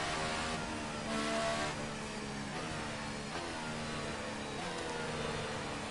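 A race car engine in F1 2018 hums and revs steadily with shifting pitch, heard faintly with no one talking as the car nears the pits.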